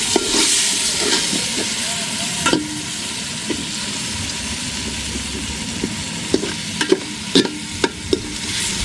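Masala for country chicken khichuri sizzles steadily in a pan while a spoon stirs and scrapes it, with sharp metallic clinks and scrapes that come in bursts, mostly toward the end, over a constant close frying hiss.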